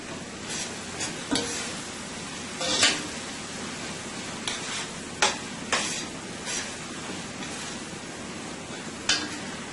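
Vegetables tossed and fried in a pan, a constant hissing sizzle punctuated by about eight irregular scraping clatters as the food is flipped and stirred, close and clear with no talking.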